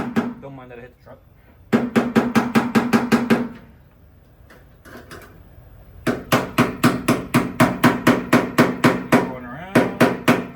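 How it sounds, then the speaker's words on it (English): Sharp, evenly spaced hammer blows strike the body of a 1977 C10 pickup with a 454 engine, coming in two long rapid runs and a shorter burst near the end, loud and close, with someone talking briefly between them. "I have a hammer."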